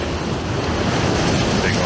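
Ocean waves surge onto a rocky winter shore in Lofoten, Norway, a close, continuous roaring wash of surf with wind noise.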